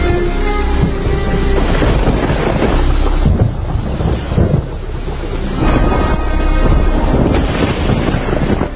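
Heavy rain pours through a forest, a dense, steady roar of downpour with deep rumbling underneath that rises and falls slightly, continuous and loud throughout with no voices.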